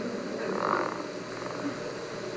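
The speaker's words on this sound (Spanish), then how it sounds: "¿Por qué Nacho hace este ruido con la rana?" A baby shakes a small toy frog that gives a soft croaking squeak. It sounds faint and brief over steady room noise.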